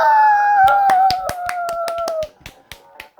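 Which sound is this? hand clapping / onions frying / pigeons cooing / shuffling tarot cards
hand clapping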